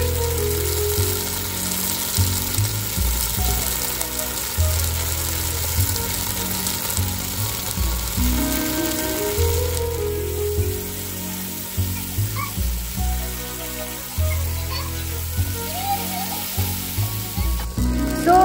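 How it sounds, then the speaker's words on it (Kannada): Vegetables frying in oil in a pot for a curd sambar, a soft continuous sizzle under repeated knocks and scrapes of a utensil against the pan, moderately close. "ಎಣ್ಣೆಲೆ ಫ್ರೈ ಆಗಲಿ ಚೆನ್ನಾಗಿ."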